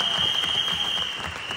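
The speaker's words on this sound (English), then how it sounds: "A round of applause for our beautiful, hardworking, lovely," Audience applause at a film trailer launch event, a short steady burst of clapping with a continuous tonal hum running beneath it.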